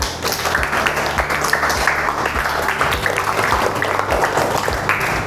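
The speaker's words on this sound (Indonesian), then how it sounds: "beri tepuk tangan buat teman-temannya" Schoolchildren in a classroom clap for their classmates, a steady dense round of applause lasting several seconds with occasional single louder claps close by.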